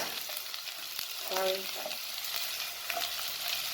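Onions sizzling in hot vegetable oil in a pot, a steady crackling hiss that runs throughout, with a brief clink of a utensil partway through.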